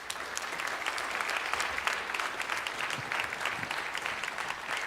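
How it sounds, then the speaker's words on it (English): Sustained audience applause fills a school chapel gathering celebrating Black History, a dense, steady wash of many hands clapping at moderate distance, with faint voices mixed beneath. "Can I get another round of applause for my boy BJ?"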